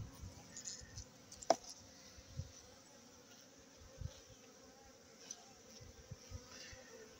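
Buckfast honey bees buzz softly and continuously in the background, with occasional brief louder passes and faint rustling.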